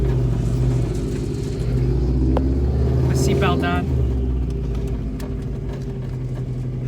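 Subaru WRX bugeye rally car fitted with a bellmouth catless downpipe, its engine rumbling loudly and steadily from inside the cabin while people talk over it.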